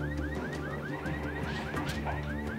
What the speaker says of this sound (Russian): Сигнализация.